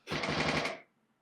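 A rapid burst of gunshot-like sound effects from a TV restaurant makeover show, loud and close, rattling off in quick succession for under a second before cutting to near silence.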